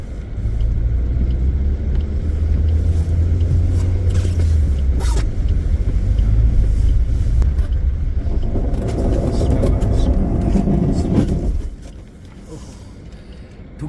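Car stuck on a snowy forest track with its engine revving hard, a loud sustained low roar with grinding and rattling that strains for about eleven seconds, then drops abruptly to a quieter idle.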